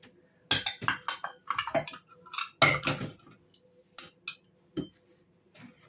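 A utensil stirs homemade cookie dough in a bowl after vanilla and salt go in, making a rapid series of sharp clinks and scrapes against the bowl in irregular bursts with short pauses between them.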